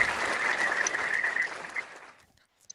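Audience applause for Dr. Allan Cunningham at a live Wednesday talk, a short burst of clapping that fades out within two seconds, followed by one faint lone clap.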